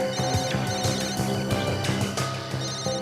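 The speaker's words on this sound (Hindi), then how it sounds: "हाँ, फोन की रिंग जैसी आवाज है।" A phone rings in the jungle with a repeating electronic ringtone pattern, steady and fairly loud throughout, with no voices.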